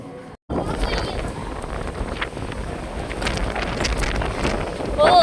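Wind buffets the microphone aboard a boat on open water, a continuous rough rumble and roar broken by one brief dropout early on, with voices faintly present beneath the gusts.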